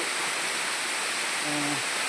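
The large waterfall in the Palakonda hills near Kadapa gives a loud, steady rushing roar that fills the whole clip, with a brief low tonal sound near the end.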